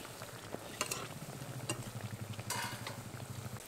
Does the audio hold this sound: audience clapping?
no